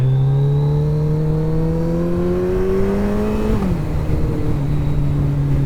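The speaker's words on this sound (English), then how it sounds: "Rev matching, gear down." A Kawasaki ZZR1400 (ZX-14R) motorcycle engine drones steadily close by, its revs climbing smoothly and then briefly blipping and dropping as it shifts down a gear, with no talk over it.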